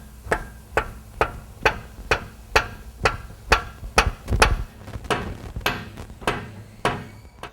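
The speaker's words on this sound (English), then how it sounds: "I'm gonna give it a whack" A hammer striking the upper control arm bushing on a Nissan Xterra, around fifteen sharp metallic whacks in a fast, steady rhythm, close and loud, no voices.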